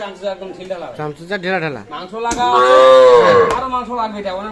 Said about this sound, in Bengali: এটা হচ্ছে তিন নাম্বার গাভিটা তিন নাম্বার গাভি